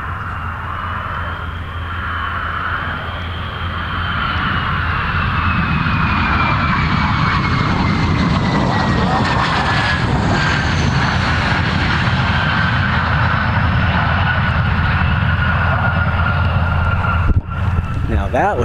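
A fixed-wing airplane comes in to land at the AirVenture airshow, its engine drone loud and steady throughout with a slowly falling pitch as it passes, over a constant crowd and wind hum.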